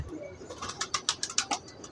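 A pigeon coos in a quick series of soft, throaty calls, close by with no other voices.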